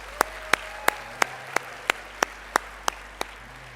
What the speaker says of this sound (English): I would like a round of applause for yourself